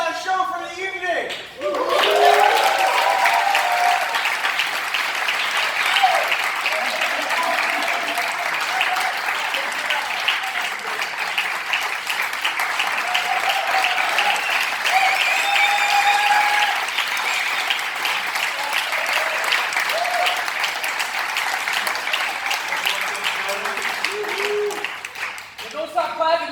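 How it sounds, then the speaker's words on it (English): An audience at the close of an evening show claps in sustained, dense applause that runs loud and steady for most of the stretch, tapering off at the end. "Don't stop clapping."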